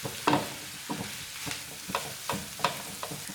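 Tawa chicken masala fries on a low flame, a gentle sizzle punctuated by rhythmic scraping strokes of a spatula, roughly two per second, quiet and close.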